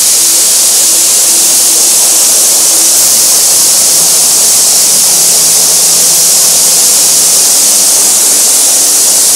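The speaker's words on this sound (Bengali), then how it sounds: "ও কি দারুণ লাগছে, কোথা থেকে পড়ছে। এই জলটাই আবার এই দিক দিয়ে ওদিকে বয়ে চলে যাচ্ছে।" Water plunges steadily at a waterfall in Daringbadi, a loud, unbroken roaring hiss of falling and flowing water that stays close and even throughout.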